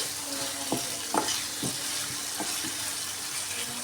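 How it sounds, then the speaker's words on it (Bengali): Cut potatoes frying in a pan with salt and turmeric, giving a steady close hiss with a few soft stirring clicks and scrapes early on. "এটাকে ঢাকনা দিয়ে ঢেকে এটাকে ভেজে নিতে হবে"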